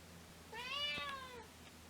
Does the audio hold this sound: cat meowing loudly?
yes